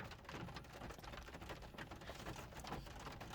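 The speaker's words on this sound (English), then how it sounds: "we are getting rained out" Rain pours down steadily in a dense, even patter with no talking, a close, constant wash of drops that stays uniform from start to finish.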